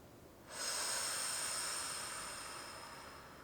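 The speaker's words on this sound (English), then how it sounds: "So take a deep breath in." A long, steady inhaled breath taken during a seniors' yoga mobility exercise, starting abruptly and holding as a soft airy hiss that slowly tapers, close and alone with no talking.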